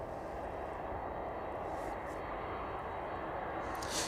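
Jet aircraft taxiing toward the runway at East Midlands Airport on a cold evening, a steady broadband engine rumble and whine held at a constant level throughout, with a slight swell at the very end.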